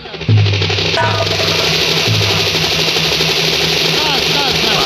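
A helicopter engine droning loudly and steadily nearby, a constant mechanical roar with a faint tonal hum beneath, with no speech heard.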